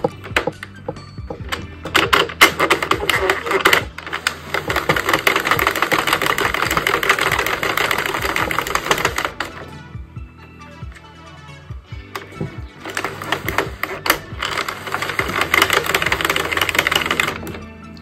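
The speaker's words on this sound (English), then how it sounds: "go ahead and then crank till you have 20 rows" A Sentro knitting machine is cranked through rows of a cropped tank top, giving a steady rattling, clicking clatter for about nine seconds, a brief pause, then another sustained run of the same mechanical clatter.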